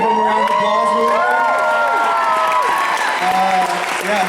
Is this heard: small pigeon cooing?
no